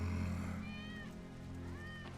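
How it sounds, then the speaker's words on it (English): Wedge's cat in the video game Final Fantasy VII Remake meows twice in rising, drawn-out calls, set against a steady, humming in-game music and ambience backdrop. "That's Wedge's cat."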